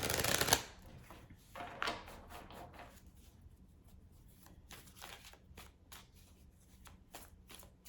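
Tarot cards are shuffled by hand in a burst of quick riffling rustles, followed by softer intermittent card snaps and slides, close and fairly quiet with no talking.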